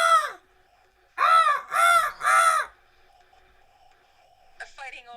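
A man imitates a seagull with his voice: one short screech, then three loud, harmonic squawks in quick succession, followed after a pause by a couple of fainter, higher squeaks.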